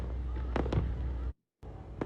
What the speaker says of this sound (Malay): Ini di Tokyo, bunga api Hari Kemerdekaan Amerika.